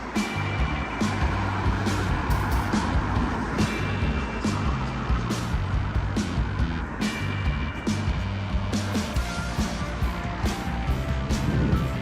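Busy road traffic on a Brighton street, a steady, loud roar of cars and other vehicles passing close by with no pauses and no talking.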